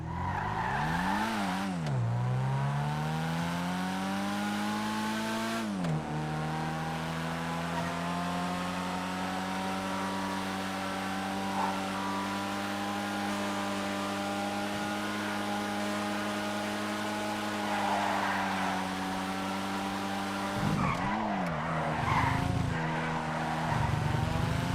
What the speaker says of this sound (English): this car does take corners well, brakes well, and handles well